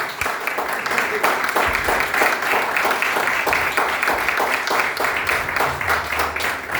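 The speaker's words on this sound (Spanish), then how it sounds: "Dale un fuerte aplauso al Señor." A church congregation claps loudly and steadily, a dense continuous wash of applause filling the room from start to finish.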